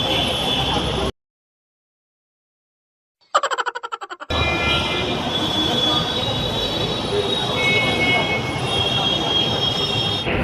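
A metro train rumbles and rattles loudly, broken by a sudden silence, then a pulsing screech before the steady rolling noise and faint wheel squeal return.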